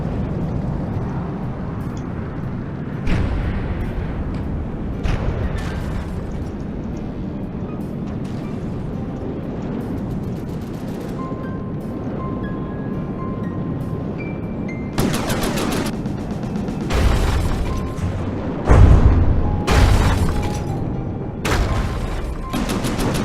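Battleship guns firing in a naval battle in the video game From the Depths: heavy booming shots and bursts of rapid gunfire over a constant rumbling din, with the loudest volleys clustered near the end.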